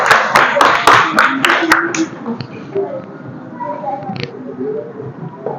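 A burst of loud, quick clapping from a small group of children at a primary school for about two seconds, then fades into quiet background murmuring and children's voices.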